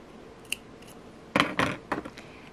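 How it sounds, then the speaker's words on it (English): Scissors snip bracelet thread up close: a faint click first, then a cluster of crisp, sharp cuts and snaps in quick succession. "And now I will take the scissors, cut"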